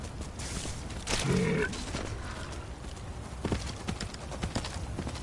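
Clopping hooves and a short whinny from Arvak, the spectral horse in the Skyrim video game, heard close and fairly loud over a steady low game-world background.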